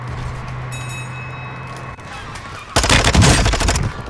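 Rapid automatic gunfire in a Warzone 2 battle royale match, a loud close burst of fast shots lasting about a second after a quieter stretch of low hum and faint tones.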